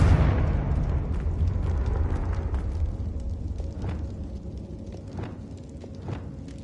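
A Confringo fire spell blast in Hogwarts Legacy erupts loudly at the start and rolls off into a long, fading rumble, with faint scattered pops and crackles lingering afterward.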